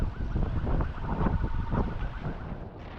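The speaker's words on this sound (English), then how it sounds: "That siren's for me." A police car siren wails faintly through gusty wind noise on a road in Libya, escorting a touring cyclist, heard at a distance over steady wind buffeting.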